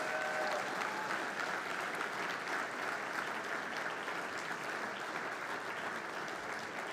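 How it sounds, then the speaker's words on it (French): Sustained applause from a large crowd at a Quebec Liberal Party general council, a dense, even clatter of clapping that fills the whole stretch without letting up. "Je pense qu'on peut les applaudir de façon collective"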